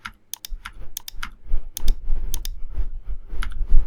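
Keys on a computer keyboard, including the delete key, pressed in a quick irregular run of sharp, close, loud clicks with short pauses, and no voices.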